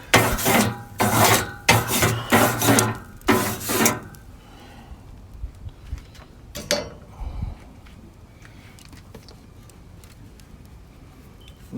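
A hot barbecue grill grate is brushed with several rapid, loud rasping scrubs in quick succession. Scattered softer scrapes and clinks follow.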